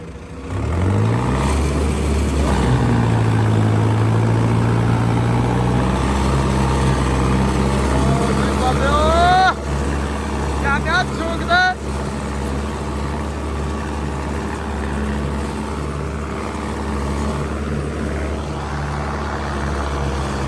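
A Mahindra-style 744 farm tractor engine, idling loud and steady, then rising and falling as it is revved up toward high rpm, with a constant close diesel rumble throughout.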